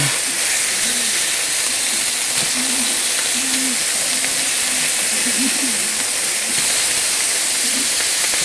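A burger patty browning in olive oil in a pan gives a steady, even sizzle and hiss throughout, with a low murmur of voice faintly underneath.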